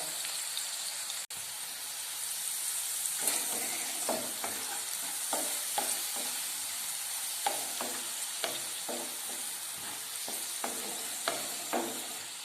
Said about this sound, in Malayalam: നന്നായി ഇളക്കുക. ഉപ്പും ചേർക്കുക.